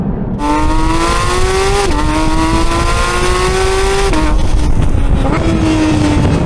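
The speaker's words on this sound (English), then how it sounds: "This is pure motorsport, this sound." A high-revving sports car engine screams loudly and continuously, pitch climbing through gears with brief dips at each shift.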